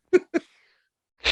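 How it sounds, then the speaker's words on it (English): A person sneezes twice in quick succession, two short sharp bursts close to the mic, followed after a pause by a brief rustle or breathy noise. "Man, I've been sneezing like fucking crazy."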